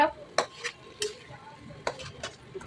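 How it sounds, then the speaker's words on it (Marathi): A spoon stirs jaggery lapshi in a kadhai, with sharp scraping clinks against the metal coming in irregular strokes, about seven distinct scrapes over a quiet background. "नंतर मी कढईमध्ये सर्व अशा प्रकारे हलवायला घेतलं"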